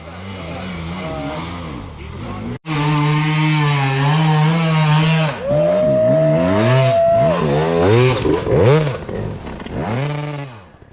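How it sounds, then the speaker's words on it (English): A dirt bike engine labors on a hill at a hill-climb event, revving hard and loud in repeated rising and falling bursts, close by, with faint voices in the background. "Well, that was Luke, and Matty wasn't there to start his bike for him, so it took a little while to get out of there"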